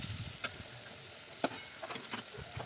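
Stovetop cooking, with a faint steady sizzle of frying and a few sharp clicks and scrapes of a utensil against the pan, heard alone at low level.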